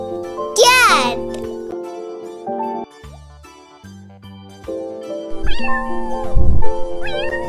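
A cat meows loudly in a preschool alphabet lesson, an upward wail near the start and later shorter mews, mixed with a voice and cheerful music.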